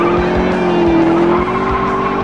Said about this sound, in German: Driften kann man auch relativ gut mit dem Auto.